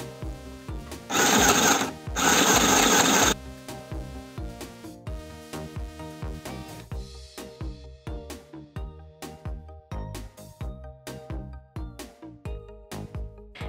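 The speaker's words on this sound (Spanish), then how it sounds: "Pondremos el resorte en el medio y vamos a coser en recto dejando nuestro margen de costura." A mini sewing machine stitches a straight seam over elastic in two quick, loud buzzing bursts, followed by quieter mechanical clicking and humming.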